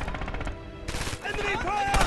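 Bursts of rapid automatic gunfire in the Stalingrad battle game Red Orchestra 2, loud close rattling volleys with brief pauses, with a voice calling out alongside.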